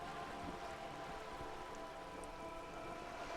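Steady rain in the video game Disco Elysium, an even, continuous hiss of falling drops and pattering on surfaces, moderately loud, with no voices.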